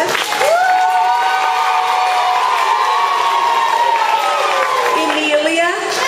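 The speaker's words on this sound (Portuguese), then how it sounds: "E então peço uma salva de palmas para a Fernanda." A school closing session audience bursts into loud applause and cheering for Fernanda, with children's shouts and whoops rising over continuous clapping, close and lively throughout.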